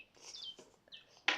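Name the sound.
Digi Birds toy bird singing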